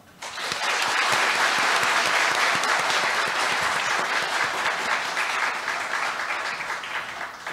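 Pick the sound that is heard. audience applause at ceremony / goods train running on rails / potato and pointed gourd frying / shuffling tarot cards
audience applause at ceremony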